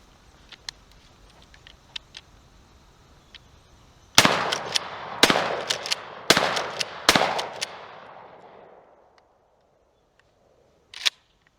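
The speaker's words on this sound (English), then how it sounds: "Let's shoot a couple shots off." A Mossberg 500 pump shotgun fires standard 2 3/4 inch shells outdoors, four loud booming shots spaced about a second apart, each with a long echoing tail, then a fainter clack of the action near the end.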